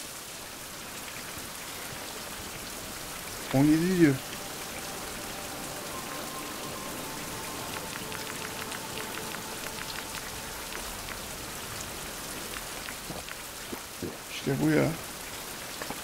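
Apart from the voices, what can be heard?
rain falling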